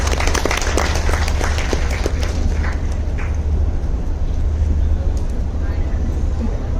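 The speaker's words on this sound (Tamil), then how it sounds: "அபர்ணதிக்கு ஒரு நல்ல கைத்தட்டல் கொடுத்துடலாம்." An audience at a film promotion event for the movie Kalidas 2 gives the actresses a long, steady round of applause, dense and loud over a low hall rumble, with crowd voices mixed in.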